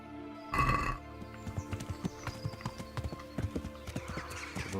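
Hooves of a horse in the video game Kingdom Come: Deliverance clop in a brisk run of close, distinct steps, following a brief louder burst at the start.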